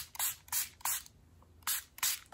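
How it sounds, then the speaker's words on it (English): Short bursts from a spray can hiss onto a piece of file folder paper, five quick sprays in an uneven rhythm with a brief gap midway, close and fairly loud. "I'm gonna just spray."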